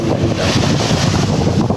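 Strong wind at sea buffets steadily against the microphone, a continuous roaring rush with no voices.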